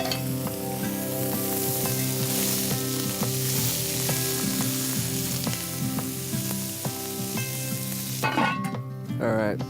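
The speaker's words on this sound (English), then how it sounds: "I've got bacon fat rendering in that pan, caramelizing some onions" Butter sizzles loudly in a pan of rendering bacon fat and caramelizing onions over an open fire, a constant close crackle with stirring, then a brief clatter near the end.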